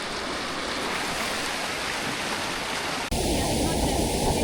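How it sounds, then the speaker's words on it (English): A small waterfall pours into a steamy hot pool, a steady close-up rush of falling water that shifts abruptly to a deeper, heavier wash partway through. "Em has chosen a mini baby waterfall."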